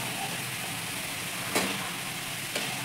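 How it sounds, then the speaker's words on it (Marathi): Shev frying in oil over a low gas flame gives a steady, even sizzle, broken by two brief sharp clinks. "मंद गॅसवर चांगल्या भाजून द्यायच्या"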